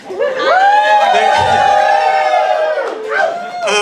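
An audience at a film prize kickoff event cheers and whoops loudly and continuously for nearly four seconds, a dense crowd roar with shouted voices rising and falling, swelling again at the end.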